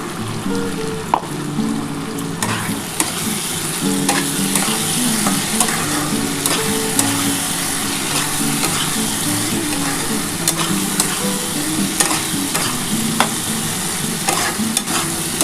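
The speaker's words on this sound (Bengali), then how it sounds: "এই মশলাটা দিয়ে ভালো করে কষাতে হবে।" Katla fish head and potatoes fry with a ground paste of dried and green chilli, garlic, ginger and cumin, making a loud, continuous close sizzle broken by repeated scraping stirs, with no voices.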